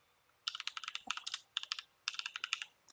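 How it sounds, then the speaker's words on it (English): A name is typed on a computer keyboard in three quick bursts of sharp, close key clicks with short gaps between them, heard alone in a quiet room. "Let's type in a name like Harry Potter."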